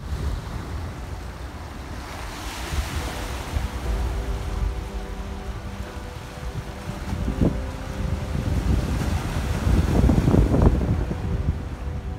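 Strong wind buffeting the microphone on the cold Baltic Sea coast near Prora, a steady roaring rush with surf-like swells that grows louder and gustier toward the end, with no voices.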